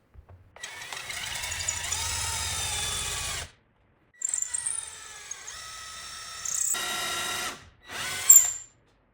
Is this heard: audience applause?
no